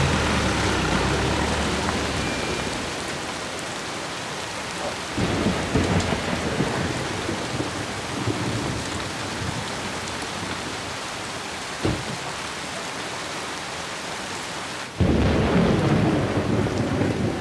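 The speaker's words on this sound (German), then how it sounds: "Da kommt ein Unwetter." A heavy thunderstorm: dense, steady rain pours on surfaces throughout, broken by several sharp, loud thunder cracks and rumbles, the last one especially strong near the end.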